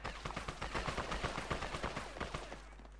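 Rapid bursts of gunfire in ARK: Survival Evolved Extinction, a dense string of sharp shots fired in quick succession for about three seconds, loud and close, with no talking over it.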